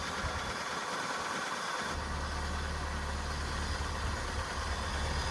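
A Dodge Dakota engine with tappy lash adjusters idles while warming up, giving a steady, even, close mechanical drone with no voices.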